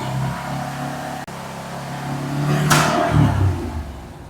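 A Yamaha RMAX4 side-by-side engine revs up on an exhaust jack, a steady idle rumble swelling into a louder rev near the end, with a brief dropout partway through.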